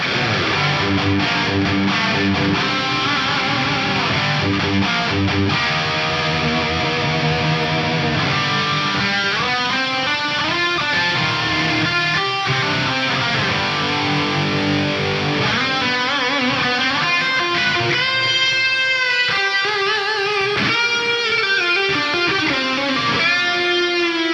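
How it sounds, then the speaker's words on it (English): Distorted electric guitar played through an AM4 amp modeler with heavy, spacious Ursa Major special-effect reverb, chords and lines ringing out in a long wash, no talking. "Let's try one of the special effect reverbs like the Ursa Major over here."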